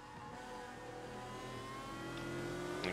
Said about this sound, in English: You can hear that, the Ford V8.